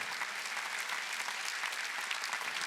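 Church congregation at a Sunday worship service claps together, a steady, even wash of hand clapping at moderate distance with no voices over it.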